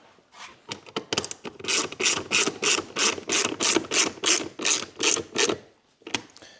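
Rapid ratcheting clicks from a T25 driver as screws are driven into a 2026 Ski-Doo snowmobile during a touchscreen display relocator install, about a dozen even bursts in steady rhythm, close and clear with no talk.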